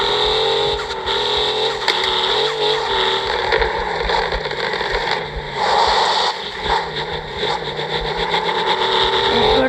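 A Toyota Land Cruiser, modified to look like a Pajero, runs steadily with a continuous engine drone and vibration throughout, close and fairly loud, with no talk over it.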